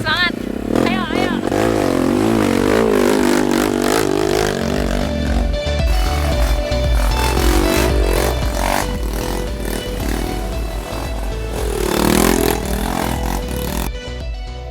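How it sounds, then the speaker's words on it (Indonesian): Trail motorcycle climbing uphill through open terrain, engine revving and labouring with rising and falling pitch, close and loud, with clattering and scraping from the rough ground and people talking over it. "saat mengendarai motor trail di alam terbuka seperti ini"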